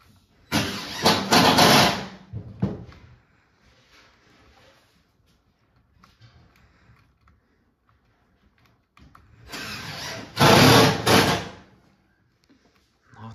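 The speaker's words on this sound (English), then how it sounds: "Not that drill again." A loud mechanical drill in a Roblox game roars in two bursts, one early and one later, each lasting a couple of seconds, with a quieter stretch between them.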